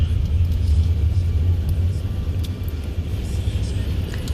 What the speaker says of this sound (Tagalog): Napaka-traffic guys.